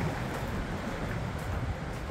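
Ocean waves and wind on a rocky coastal walking trail, a dense continuous roar of surf and gusting wind buffeting the microphone, loud and unbroken.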